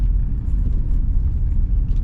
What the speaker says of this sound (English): There's Naivasha town full of trucks.